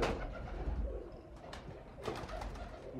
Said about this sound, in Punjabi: ਕਬੂਤਰ ਬਸ ਖਰੀਦ ਕਰੂ ਚੁੱਕੇ ਨੇ, ਨੁਹਾਈਆਂ ਛੁਆਈਆਂ ਰੱਖੀਆਂ ਨੇ